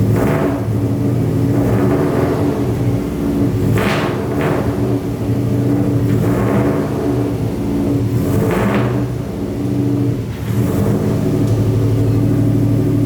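A WRX-swapped Subaru 2.5RS engine runs steadily while shifted through the gears, with a continuous mid-pitched drone punctuated by several brief rising revs, close and loud with no talking.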